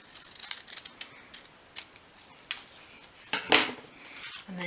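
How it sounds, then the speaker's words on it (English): Scissors snip through a sheet of brick-pattern paper for a 1/12th scale shop model, a series of short, close, crisp cuts in an irregular rhythm with one louder cut near the end, no talking. "I can just cut it out of one piece of brick paper"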